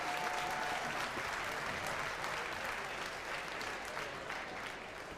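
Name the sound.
show crowd applauding sheep shearers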